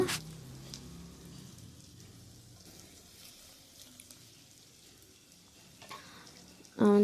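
Onions frying in a pan on the stove for an avarekalu (field bean) bath, a low steady sizzle running quietly throughout, with a louder clatter or knock right at the end.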